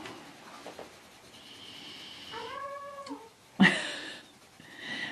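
House cat in her little basket making strange noises: a soft, wavering meow-like call and a sudden sharp squeak, faint and close, over a quiet background rustle.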